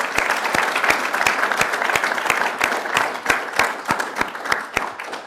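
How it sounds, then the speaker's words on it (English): An audience at the close of a 2013 emerging-markets symposium applauds its speakers with a steady, dense round of clapping. Sharper individual claps stand out through the whole stretch. "So let's give them another round of applause."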